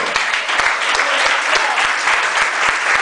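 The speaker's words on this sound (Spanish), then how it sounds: "Denle un aplauso al Señor" A church congregation gives a loud, sustained round of applause for the Lord, dense clapping with a few sharper individual claps standing out and some faint voices mixed in.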